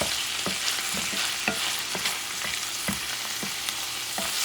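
Chorizo frying in a pan sizzles steadily, broken by repeated stirring scrapes and light clicks at an irregular pace, close and moderately quiet with no voices.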